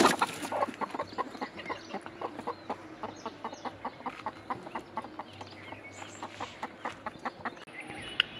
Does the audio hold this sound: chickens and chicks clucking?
yes